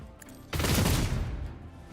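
A sudden loud volley of gunfire in a Warhammer video game, a dense burst of close shots breaking in after a quiet moment and trailing off over a second or so.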